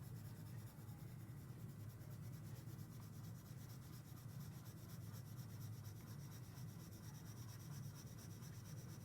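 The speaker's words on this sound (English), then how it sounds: "I'm going to use my broken crayons to color the background" Broken crayons rubbed steadily across paper to color a background, making a faint, continuous dry scratching that never pauses, with no voices.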